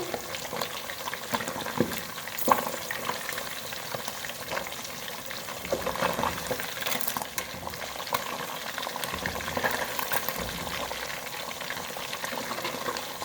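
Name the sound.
fish pieces frying in oil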